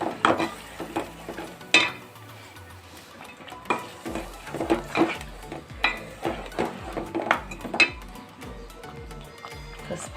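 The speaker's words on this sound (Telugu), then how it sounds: "ఉల్లిపాయ కారం మాడకుండా కలుపుకోవాలి." A spoon stirs ground onion paste and chili powder in a pan for Andhra-style egg pulusu, giving repeated scraping strokes and metal clinks over a soft, continuous sizzle.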